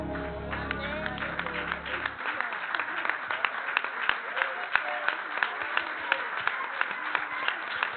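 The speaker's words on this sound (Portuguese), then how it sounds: "Aleluia, aplauda o Senhor" A church congregation claps steadily in rhythm during a family worship service, with even beats repeating for several seconds after a sung passage fades out.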